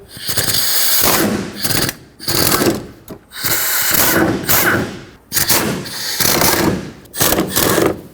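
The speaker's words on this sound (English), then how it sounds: "Take out these three bolts on the driver's side." A ratcheting wrench on a long extension takes out bolts on the driver's side of a Chevrolet Express van. Repeated loud, close bursts of rattling clicks are broken by short pauses, with no speech.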